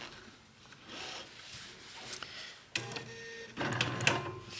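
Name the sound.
sewing machine stitching a quilt in place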